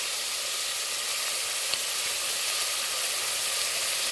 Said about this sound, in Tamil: பாருங்கள், நல்லா பச்சை வாசனை போகிற அளவுக்கு நம்ம வெங்காயம் நல்லா வதக்கிக்கலாம்.